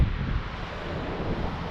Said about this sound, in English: it's a windy one though